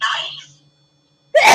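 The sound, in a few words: sneeze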